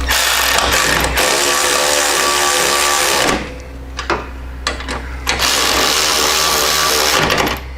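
A power tool runs bolts into a reservoir shock mount on a performance bagger motorcycle, whirring loudly and steadily, then dropping to brief bursts and short pauses before revving again.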